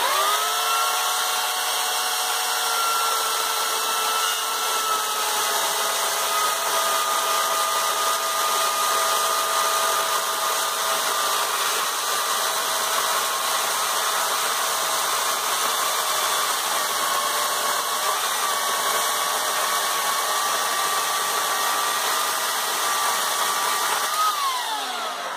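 A new chainsaw runs at a steady high-revving drone while cutting wood in a processing setup, loud and continuous with a slight pitch shift near the end and no talk.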